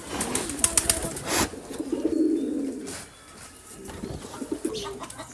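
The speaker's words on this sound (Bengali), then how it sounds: "ময়ূরপঙ্খী কবুতর।" Fantail pigeons on a small farm give soft, low cooing calls close by, with brief bursts of wing flapping and faint chirps in a quiet setting.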